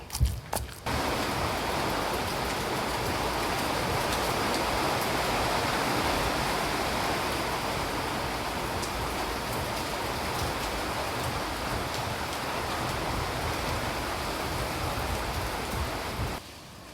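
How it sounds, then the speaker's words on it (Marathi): Steady, dense hiss of heavy rain pouring without letup, loud and close, with no voices. "पाऊस खूप मोठा आहे बाहेर पाऊस पडायला"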